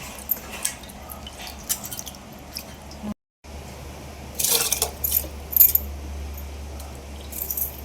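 Water drained off a pot of freshly washed rice in a home kitchen, heard as a few short, splashy pouring bursts and trickles over a low background hum.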